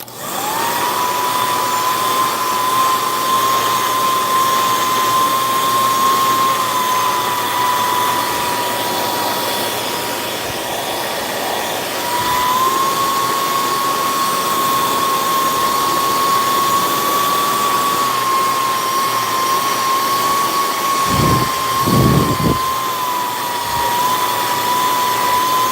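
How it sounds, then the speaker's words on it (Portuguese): A hair dryer blows continuously at close range, drying paint on fabric, a steady high whine that briefly dips and returns, with a few soft thumps near the end. "Vou secar de novo com o secador."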